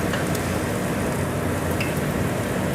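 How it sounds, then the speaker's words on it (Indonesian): Battered food crackles in hot oil, a dense and even sizzle that holds steady at close range for the whole stretch, with no voices. "Garing aku goreng lagi."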